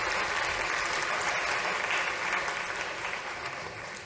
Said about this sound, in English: A huge round of applause to our volunteers.